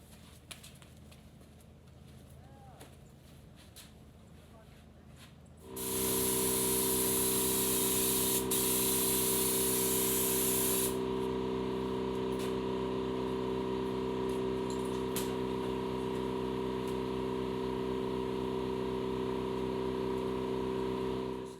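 Spray gun painting the bed of a pickup bed trailer: quiet surroundings, then a loud steady hiss kicks in and holds for many seconds with a constant compressor drone underneath, no one talking.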